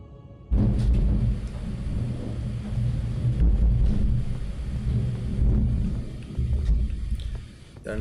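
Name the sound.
thunder in the video game Elden Ring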